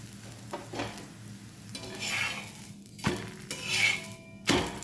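Talipattu, a North Karnataka flatbread, cooking on a pan, heard as a soft sizzle broken by scraping and clinking of a utensil, with a few sharper knocks against the metal, close and moderately loud.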